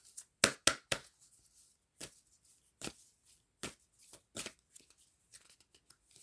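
A deck of oracle cards is handled and shuffled close by, a few sharp papery slaps and riffles in spaced bursts, with quiet between them and no speech.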